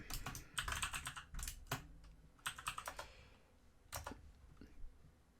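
Fast clattering keystrokes on a computer keyboard while coding a Minecraft mod. Quick bursts of close typing are separated by short pauses.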